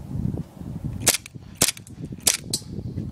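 Airsoft gun fired in a first-person shooter style airsoft game, four sharp cracking shots spaced about half a second apart over a low rumble of outdoor background noise.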